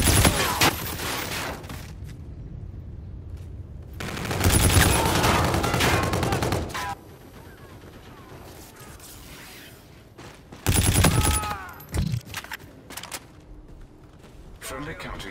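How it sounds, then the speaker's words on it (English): A sentry gun in Call of Duty, multiplayer on the Heartland map: loud bursts of rapid automatic gunfire come in several separated volleys, with quieter game sounds and occasional voice callouts between them. "Sentry gun."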